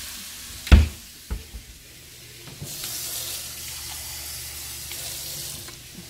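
Tap water runs into a kitchen pan with food frying in it, a soft steady stream and faint sizzle after a few clunks of handling, moderately close with no talking.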